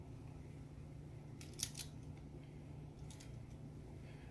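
Wire strippers bite through the insulation on 12 or 14 gauge electrical wire in a couple of short, crisp snips over a low steady hum, with no talking.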